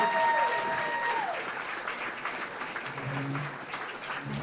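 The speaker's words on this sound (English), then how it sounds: "How about a nice round of applause for these students who have 4 years of high school education together." Applause for scholarship students at a Hall of Fame ceremony, a sustained wash of crowd clapping lasting several seconds, with a faint tonal sound at the start and a few low murmurs of voices underneath.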